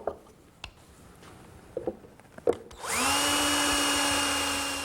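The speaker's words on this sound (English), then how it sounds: "Now I can open the drawer and drill for a couple more screws." Power drill driving screws into a wooden CD storage case drawer: a few light taps and clicks, then a close, steady motor whine that spins up and holds to the end.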